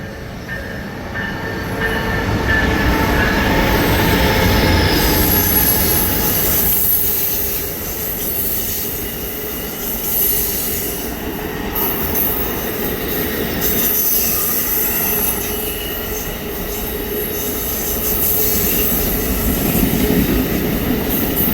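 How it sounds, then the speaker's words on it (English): An Amtrak passenger train rolls past close by for the whole stretch, a steady rumbling roar with high metallic wheel squeals riding on top, no voices. "Right before I was going to go in, we got a train coming."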